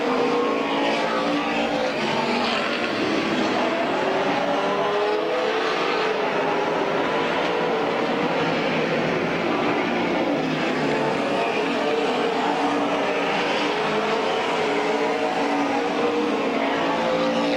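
Race cars roaring around the oval at Midvale Speedway, a dense continuous engine drone filling the whole stretch, steady and loud with no pauses or talk.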